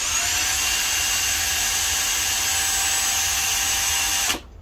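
A power drill runs close and loud at a steady, even whine for about four seconds, then cuts off abruptly.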